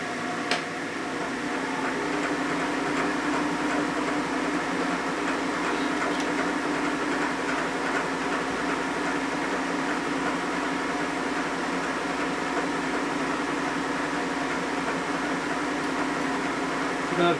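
A drill machine runs steadily on a tool-testing fixture for a Twin Cam compression release, a continuous mechanical whir and hum held at an even level throughout with no talk over it.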